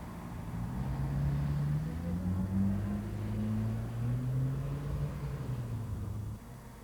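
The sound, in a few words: lorry being driven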